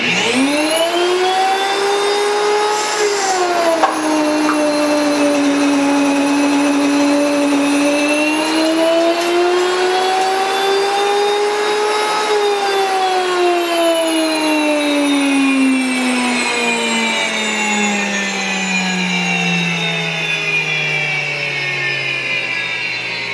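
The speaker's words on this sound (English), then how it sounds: "This particular flour mill is called a whisper mill." Whisper Mill electric flour mill grinding wheat berries on a farm, a loud, high whining motor howl that rises and falls in pitch, then slowly winds down toward the end.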